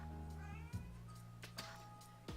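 Cat meowing in the video game Persona 3 Portable, a few short high mews over a steady soft game music bed with light chime-like accents.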